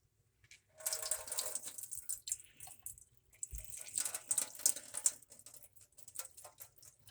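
Water drains and trickles from a lentil sprouting jar through its screen lid, an uneven patter of splashes and drips that runs in bursts for several seconds, close and fairly loud with brief pauses between pours.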